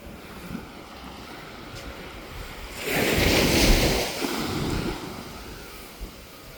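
Sea waves break on a beach with a swelling rush of surf that peaks midway and then recedes, under steady wind noise close to the microphone.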